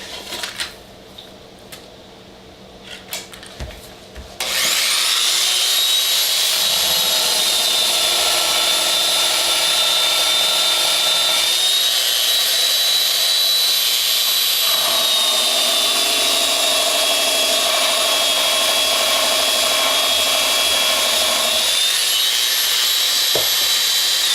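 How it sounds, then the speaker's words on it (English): A Wen 1/2 x 18 inch mini belt sander with a 60 grit belt sanding wood starts after a few quiet seconds, then whines loudly and steadily close by, its pitch and grinding shifting as the workpiece is pressed. "So I think that's a 60 grit belt on there, and it is really aggressive."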